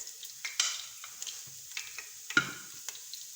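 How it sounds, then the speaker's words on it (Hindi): Chopped garlic sautéing in a spoonful of hot oil, faint intermittent sizzle broken by sharp spoon taps and stirring clicks, close and sparse. "इसको हल्का सा सौटे करेंगे।"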